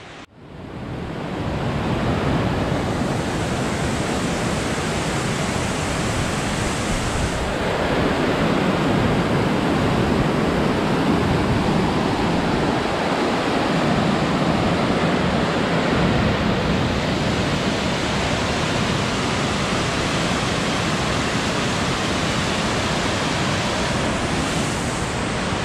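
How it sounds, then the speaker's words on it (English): Raging river water rushes at the Ohiopyle State Park natural water slides in Pennsylvania, a loud, steady roar of churning current with no talking. "This water is raging."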